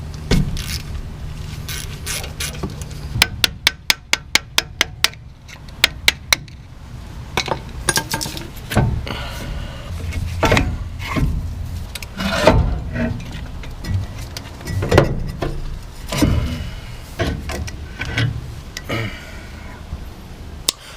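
A wedge is hammered out of a Dana 44 axle hub during a rebuild, with a quick burst of bright metallic taps and clinks followed by scattered clanks and workshop handling noise.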